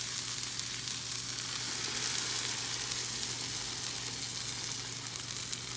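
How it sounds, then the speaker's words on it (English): Egg mixture poured over wilted spinach and translucent vegetables cooks in a pan for a veggie omelet, giving a steady, even frying sizzle throughout with no talking. "we're gonna add in the egg mixture"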